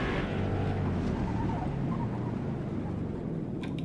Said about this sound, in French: Prochaine étape, on va aller voir les freins à 200.